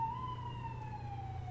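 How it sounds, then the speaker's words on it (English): An ambulance siren sounds outside, a single steady wailing tone slowly falling in pitch, faint and continuous over a low background hum. "Apparently there's a hospital ambulance in my room."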